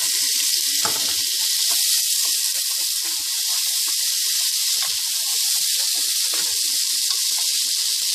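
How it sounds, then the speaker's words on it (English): Onions and garlic sauté in a pan with a continuous bright sizzle while chopped tomato goes in, a few small taps and clicks scattered over the hiss. "Over here I have my onions and garlic sauteing."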